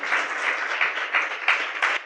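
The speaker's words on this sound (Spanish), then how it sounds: "Dele un aplauso fuerte a Él." A church congregation applauds loudly and steadily, many hands clapping together in a dense, close burst lasting about two seconds.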